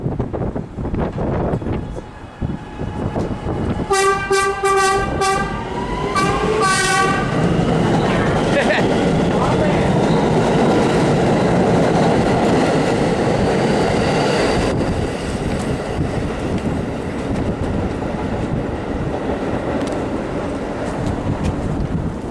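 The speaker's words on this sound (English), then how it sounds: "We're gonna watch our train leave." A Staten Island Railway train pulls out of Eltingville station in winter, a loud close rumble of cars with a horn blast near the start and wind buffeting the microphone throughout.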